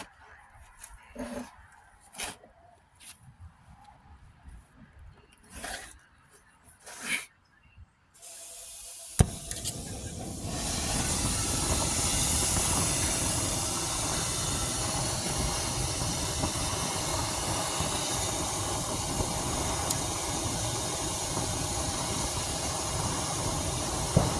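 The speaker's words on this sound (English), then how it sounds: "more heat to boil off acid, but it's almost boiled down" Acid boiling off under a torch while cleaning 10 oz of purple gold doré: scattered clicks and bumps first, then a loud, steady roaring hiss of flame and steam that continues to the end.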